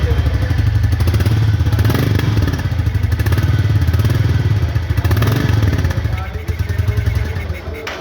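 A Royal Enfield 350 motorcycle engine idles up close with a deep, steady thumping rhythm, loud and continuous throughout.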